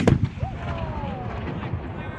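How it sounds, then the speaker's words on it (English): Fading aftermath of a historical artillery cannon fired during a military demonstration at Fort York: a booming report at the very start rolls off into a long, low outdoor rumble, with faint voices from the crowd underneath. "Now that the artillery has fired, each section of soldiers will start volley firing."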